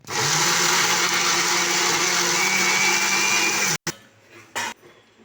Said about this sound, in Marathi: आता मस्तपैकी छान बारीक करून घेऊया.